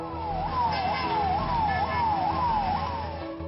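An ambulance siren wails through the city streets of Indore, rising and falling in quick repeated sweeps over steady traffic rumble, loud and fairly close.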